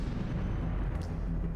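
A grenade explodes in the video game Batman: Arkham Origins with a dull, heavy boom and a low rumble that fills the brief moment at fairly loud level.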